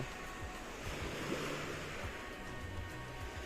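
Ocean waves wash onto a beach in Pattaya with a continuous broad surf roar mixed with wind, steady and fairly distant, with no voices.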